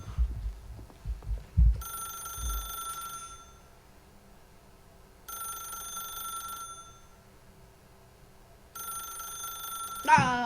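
A telephone in The Stanley Parable video game rings in three separate bursts of a bright electronic trill, with pauses between them, preceded by some low thumps and faint handling noise.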